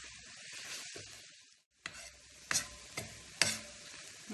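Brown sugar melting in a pan over low heat while being stirred, with a soft steady sizzle broken by a brief silence, then several sharp scraping strokes of the spoon against the pan.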